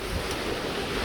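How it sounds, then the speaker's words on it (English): Severe wind gusts from Hurricane Zeta roar as a dense, steady rush of noise across the whole moment, with no voices. "We got severe gusts coming through,"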